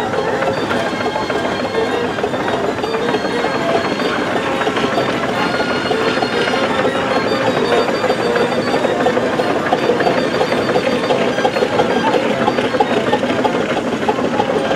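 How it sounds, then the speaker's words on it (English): A steady, loud mechanical rumble with rhythmic clattering from a 1920 steam tractor at a steam rally, running continuously and close by, with some background talk mixed in. "Now a steam tractor"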